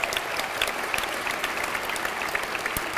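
A keynote audience at a festival applauds steadily, with a dense wash of many hands clapping at a moderate distance that holds evenly throughout, with a few sharper individual claps standing out.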